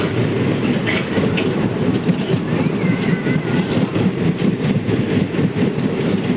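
A special passenger train from Ratnagiri to Diva heard from inside a carriage, with a loud continuous rumble and rhythmic clatter of wheels on track throughout and no voices.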